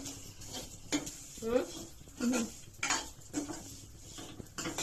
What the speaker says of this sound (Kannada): ಚಲೋ ಹಂಗ ಫ್ರೈ ಮಾಡ್ಕೋಬೇಕು.